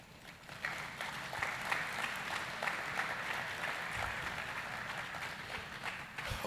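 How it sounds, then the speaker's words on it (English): A round of applause from the crowd at a new regional and international student orientation, steady and moderately loud for about six seconds, a little thin and scattered in places. "give a round of applause"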